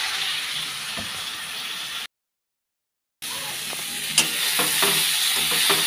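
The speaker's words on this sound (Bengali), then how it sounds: "দিয়ে আর একটু ভেজে নেব ভালো করে রসুনটা আর পেঁয়াজটা" Grated garlic and onion frying in a pan, an even close sizzle with light stirring scrapes and clicks, broken by a brief gap of silence before resuming.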